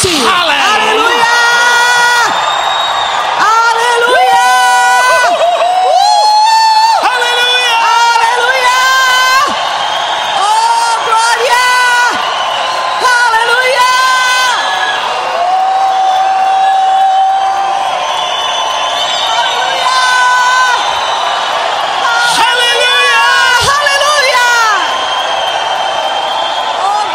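A church congregation shouts, whoops and cheers loudly and continuously, with rising yells and excited voices layered over one another throughout a long stretch.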